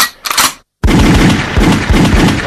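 Loud, rapid bursts of gunfire drive a UK grime rave track, a short volley, a sudden gap, then sustained rattling shots layered over a pounding beat.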